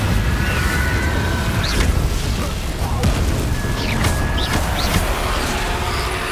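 Incendio fire spells cast in Hogwarts Legacy against an Inferius and other foes, a steady roar of booming bursts and whooshing flame with several brief whistling swoops, loud and dense over the whole span.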